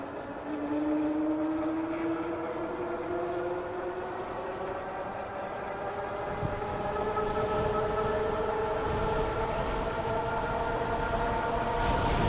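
The electric motor of a Euphree Stellar Falcon 2 scooter whines steadily at full throttle, its pitch rising slowly as it accelerates, over constant wind and road rumble.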